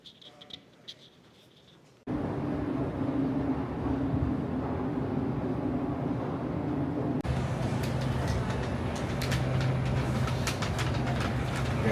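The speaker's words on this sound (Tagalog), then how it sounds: "sasakay tayo ng airport train" Airport train ride in Toronto: a continuous rumbling, rolling hum of the rail car that begins after a quieter opening with faint clatter, its tone shifting partway through as the ride continues, steady and close.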